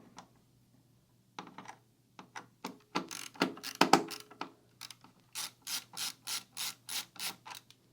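A screwdriver turning a tiny screw while fitting parts to a new PC motherboard gives a series of small clicking ratchet-like ticks, sparse at first then settling into a steady rhythm, close but quiet, with no voices.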